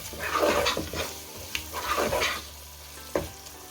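Onion and tomato salan gravy, just seasoned with garam masala, sizzles in a pan while a spoon stirs it in several scraping passes, with a couple of sharp clicks of the spoon against the pan, close and clear.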